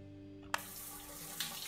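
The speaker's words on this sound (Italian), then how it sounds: "Allora, onde evitare di farmela addosso, faccio subito pipì." A game character urinating into a toilet in Trader Life Simulator, heard as a faint, steady trickle of running water that starts with a sudden splash and continues quietly, with a second brief splash later.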